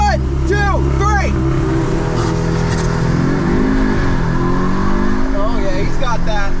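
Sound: Audi S3 engine revving and launch control acceleration

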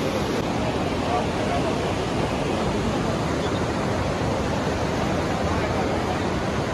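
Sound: hot spring water flowing at Manikaran Sahib

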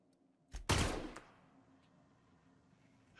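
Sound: gunshots in a video game

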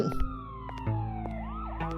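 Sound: police car siren in video game Newspaper Day

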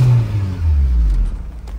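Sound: Acura RSX Type S engine starting and running

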